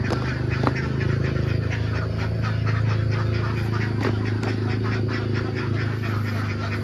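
Ducks on an egg farm quack steadily through feeding time in the morning, with dense, overlapping calls from a flock close by and a low, constant drone underneath.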